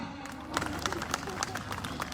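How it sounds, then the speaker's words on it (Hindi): A gathered audience breaks into applause after a good blood-sugar result is announced. The clapping is broad, rustling and continuous, heard at a moderate distance with a busy room murmur beneath it. "जोरदार तालियां"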